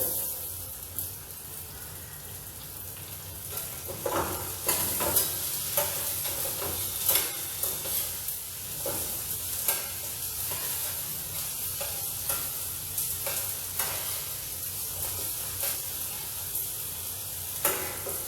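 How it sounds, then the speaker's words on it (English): Strips of tomato are added to a hot pan and stirred, bringing a steady sizzle of frying with repeated scraping and stirring clatter throughout, close and continuous with no talking. "we are going to add the strips of tomato"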